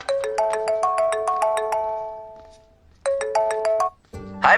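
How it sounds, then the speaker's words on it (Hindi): A mobile phone ringtone plays a bright melodic chime pattern, loud and close, pausing briefly before repeating, with a short burst of other sound at the very end. "भैया आपको किसी का फोन आ रहा है"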